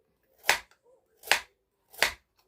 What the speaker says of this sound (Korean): 당근 썰기